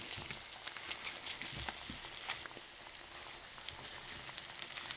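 Egg frying in a pan with onion while cooking dinner, a steady close crackling sizzle with fine spitting pops running for the whole stretch, no voices.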